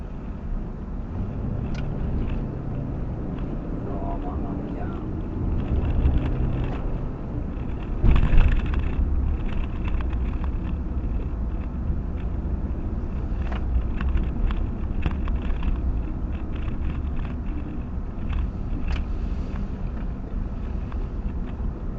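Interior road noise from a Mercedes-Benz W126 on the move, a steady low rumble and hum of tyres and wind, with one brief louder bump partway through.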